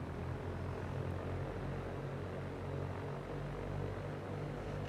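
A Cessna 172 taxiing in a flight simulator game gives a steady, low, droning propeller engine hum, even and unbroken, at moderate to faint level with no talking.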